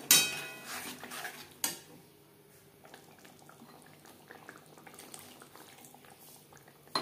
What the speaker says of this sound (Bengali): তিন 4 মিনিট গ্রেভি বেশ ভালো করে ফুটিয়ে নেব।